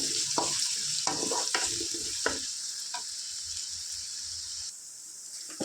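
Onions and green chillies fry in oil in a pan, giving a constant close sizzle broken by several scraping stirs of a spatula, with no talking.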